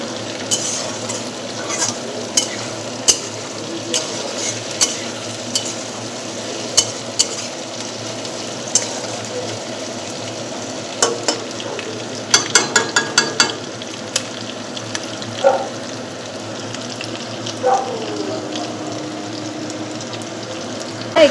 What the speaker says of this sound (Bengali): আগে পা আর পাখনাগুলো দিয়ে একটু ভাজা ভাজা